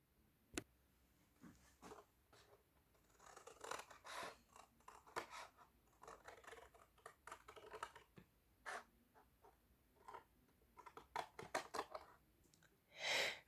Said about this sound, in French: avec notre ciseau, on va découper autour